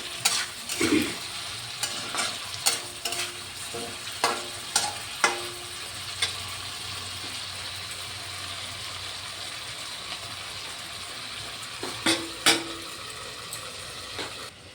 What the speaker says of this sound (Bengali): ঢাকাটা উঠিয়ে আবার একটু নেড়ে চেড়ে দিচ্ছি।